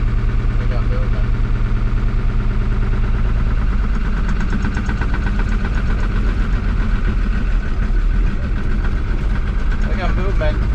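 Isuzu diesel engine in a 1975 Chevy K10 truck runs loud and steady, a dense idling rumble with knocking texture that continues throughout as the truck is moved forward and back.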